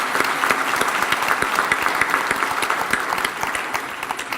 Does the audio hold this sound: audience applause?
yes